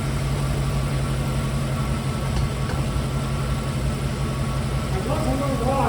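Off-road vehicle engine idling after a tune-up, a steady low rumble with even vibration close by, with faint talk in the background.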